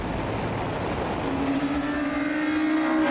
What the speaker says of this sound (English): Full throttle towards the NGK chicane.